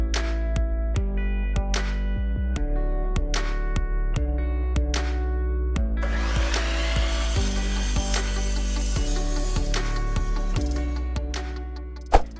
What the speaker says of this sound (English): let's go measure our shelf and then cut our shelf